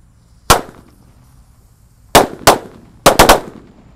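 A pack of sunflower firecrackers set off for a pre-Ramadan celebration cracks out in six sharp, loud bangs: one alone, a quick pair, then a rapid triple burst, with quiet gaps in between.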